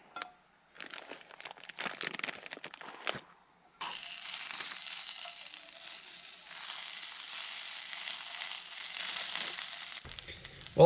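Sausages and beans cook over a campsite stove beside the Mulberry River, giving a soft, steady sizzle under faint insect chirping, with some scuffing and rustling early on.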